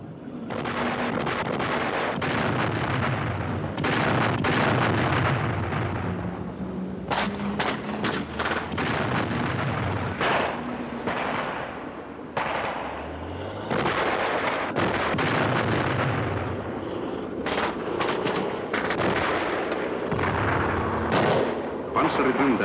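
T-55 tanks firing on a battlefield: repeated heavy booms and sharp cracks over a dense, constant roar of engines and combat noise, with someone narrating in Finnish throughout.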